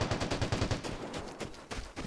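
Gunfire in the video game Vigor, a rapid burst of shots followed by scattered cracks, heard at a distance and fairly faint against background game ambience, with no talking.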